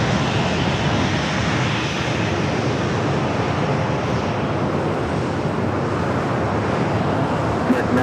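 A Boeing 737-900ER jet bound for Seattle roars steadily and loud at San Diego airport, a continuous broadband engine rumble throughout, with faint radio chatter mixed underneath.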